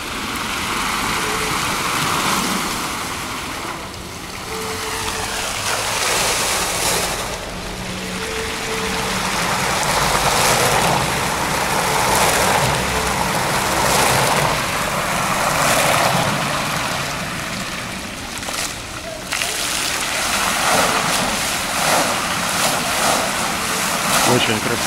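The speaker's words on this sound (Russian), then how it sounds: "Очень красивый этот фонтан, и не всегда он так работает во всей красе." Large decorative fountain running at full display in a Turkish street in summer: a continuous loud rush of splashing water throughout, with people talking nearby.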